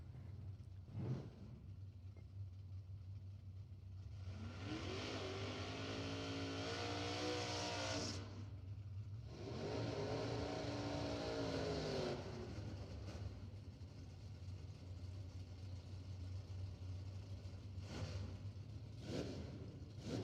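Drag race cars roar past on the strip at a Halloween shootout in West Texas, two long revving passes swelling and fading at moderate distance, with crowd and track ambience between them.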